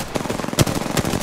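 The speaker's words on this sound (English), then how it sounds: "Did I really miss all of those shots?" Rapid automatic gunfire from the video game Apex Legends, a fast stream of close, sharp shots with a couple of louder bursts over about a second.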